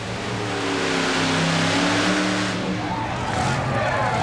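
The modified Irish Challenger pulling tractor roars through a full pull at a 1991 tractor pull in Owensboro, Kentucky, a loud sustained engine drone with shifting harmonic pitch, near and unbroken, with an announcer's voice faintly over it.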